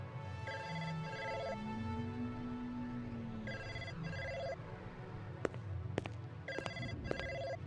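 Telephone ringing in the Blade Runner video game, repeated electronic trilling rings in bursts with pauses between, fairly faint against a low ambient hum and occasional clicks, no talking.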